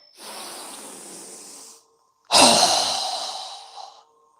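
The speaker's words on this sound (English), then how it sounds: "So go ahead and inhale. Strong exhale." Breathing during a yoga exercise: a steady audible breath lasting over a second, then after a pause a forceful, close, hissing exhale through the mouth that slowly fades.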